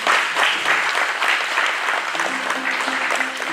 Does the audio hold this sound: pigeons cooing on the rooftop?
no